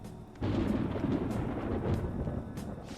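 Rolling thunder in Persona 5 Royal sets in abruptly as a loud, broad rumble and holds steady for a few seconds before easing slightly, with no voices over it.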